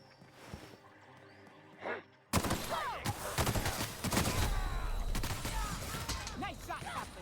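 Gunfire in the video game The Outer Worlds: after a quiet stretch with a brief voice, a sudden loud fusillade erupts, with rapid overlapping shots, ricochet-like zips and crashes continuing densely to the end.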